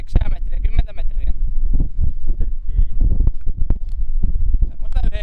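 Strong wind of about 9–10 m/s out on the sea during perch ice fishing batters the microphone with heavy low rumbling while a person talks over the noise.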